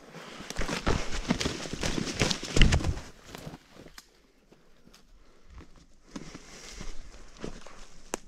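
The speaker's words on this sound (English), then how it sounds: "Oh, that's a horse." Outdoors during a spring turkey hunt, a horse walks with soft, irregular hoof thuds, louder at first and fading off, with faint birdsong around.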